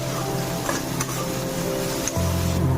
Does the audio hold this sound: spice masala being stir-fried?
yes